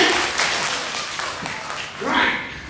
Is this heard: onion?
no